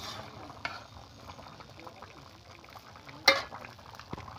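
Curry being mixed with chopped coriander leaves and fried egg; quiet, steady stirring with a soft sizzle underneath and a few sharper scrapes of the spoon against the pan.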